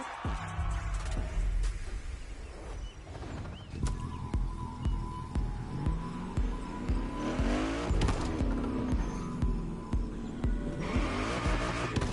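Cars drifting in a Japanese street racing video game, with loud sustained tire squeals and skids rising and falling over revving engines, close and continuous throughout.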